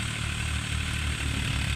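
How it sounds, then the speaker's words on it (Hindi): Steady low throb of a tractor engine working next to a thresher, continuous and unbroken, with no one speaking. "इसलिए हमने अपने ताऊ जी का ट्रैक्टर मंगाया है,"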